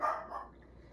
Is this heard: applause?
no